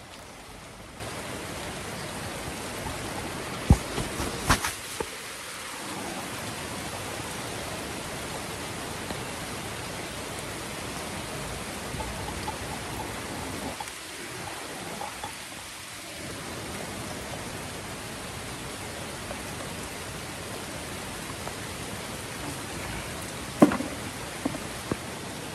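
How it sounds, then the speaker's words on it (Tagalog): Steady, even rain hisses throughout, dense and continuous, with a few brief louder spatters and no voices, during lychee picking outdoors. "O, kasi yan, ulan na,"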